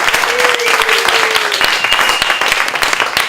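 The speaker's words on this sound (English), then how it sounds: "How about a nice round of applause for them?" An audience at a community gallery event breaks into a dense, loud round of applause, many hands clapping continuously close by, with a brief whistle rising above the crowd.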